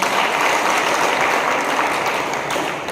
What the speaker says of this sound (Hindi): और एक लास्ट ताली आप अपने लिए जोरदार बजाइए